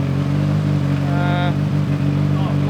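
A Skoda Octavia WRC rally car engine revs at Krabyskogen, loud and close with a steady low drone and a brief rising rev in the middle, while people talk excitedly over it.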